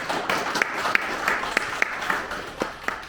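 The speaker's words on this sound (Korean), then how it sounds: "다시 한번 큰 박수 부탁드립니다" Scattered applause from a conference audience, with sparse individual claps rising and fading over a few seconds at a moderate distance, with some faint murmuring beneath.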